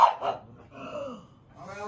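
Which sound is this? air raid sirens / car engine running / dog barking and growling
dog barking and growling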